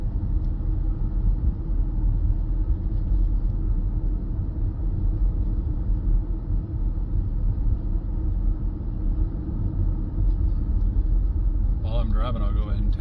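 A car being driven near a beach campsite on a windy evening, its low engine rumble and road noise steady and continuous throughout, ending with a brief faint clatter.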